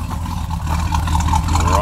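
Oldsmobile 98 convertible with a Rocket 425 V8 rumbling through chambered exhaust pipes, a steady deep low-end throb held close and loud, with a voice talking over it.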